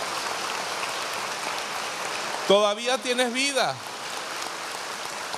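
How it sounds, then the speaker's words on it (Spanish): Congregation at an inner-healing religious retreat applauds in a steady, rain-like patter of clapping, while a voice speaks briefly over it partway through. "Denle un aplauso a Dios."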